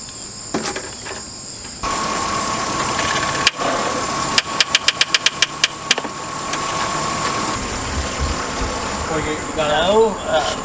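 Project car turning over after the battery wires are reconnected: a steady engine-like drone with a sharp knock, then a rapid run of about ten cranking clicks, and speech near the end.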